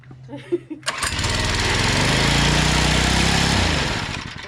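A small minibike engine is started with the choke on, then catches and runs at a loud, steady, buzzing rev for several seconds after a few brief sputters and knocks, with faint voices near the start.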